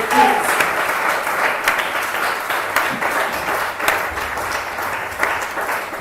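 A church congregation applauds in a dense, continuous wash of clapping that stays loud and steady, with scattered voices cheering faintly underneath.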